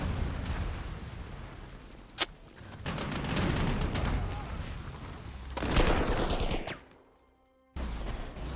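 Naval guns fire from a warship in the WWII strategy game Panzer Corps 2, a roaring run of booming salvos and rumbling blasts with one sharp crack early on, then a brief silence before another blast.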